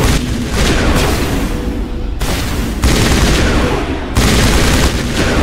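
Loud, continuous sci-fi gunfire in a Mass Effect Legendary Edition firefight, with dense overlapping bursts and blasts that roar up close with almost no pause.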